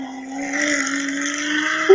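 A V12 car engine drones steadily from behind a mountain, distant and sustained, with its pitch edging upward and a brief louder burst near the end.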